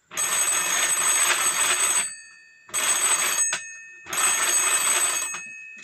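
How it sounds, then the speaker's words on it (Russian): A Soviet wall telephone's bell rings as it is driven by a hand-crank inductor, giving three loud, close bursts of rapid metallic ringing separated by short silences, with no talking. "Ну вот я в качестве звонка подключил. Посылать буду вызов."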